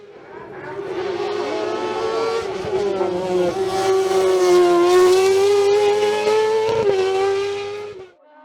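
A loud Speedcar GTR race car engine roars past at the Col Saint-Pierre hill climb, its pitch rising and then falling as it approaches and recedes, with a sharp crackle near the end.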